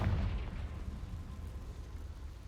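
Confringo blast spell exploding in a Harry Potter video game, a dull heavy boom at the start that fades into a low rumbling decay, with no talking.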